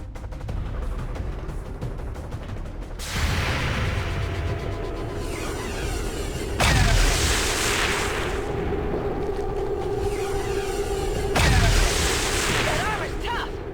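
Gunfire and explosions in the video game XCOM 2, with a constant crackle of shots beneath three loud, booming blasts spaced several seconds apart.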